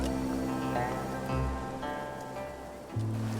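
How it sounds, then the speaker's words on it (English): Rain in the video game Infinity Nikki, falling as a soft, continuous patter over low background music tones; quiet and steady, with no talking. "The rain showed no mercy. It came without warning"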